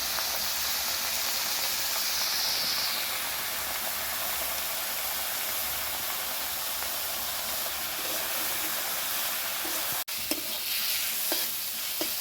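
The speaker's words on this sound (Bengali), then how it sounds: "বন্ধুরা আমার জালি কুমড়োটা ভাজা হয়ে গেছে" Ash gourd fries in a pan with a dense, steady hiss of sizzling oil and steam, loud and close, with a few small clicks of stirring near the end and no talking.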